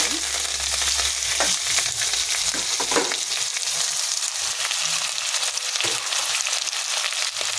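Urad dal, chana dal, cumin, curry leaves and chopped onions frying in hot oil for a broad bean stir-fry, a constant close sizzle broken by scattered crackles and stirring clatter, with no talk.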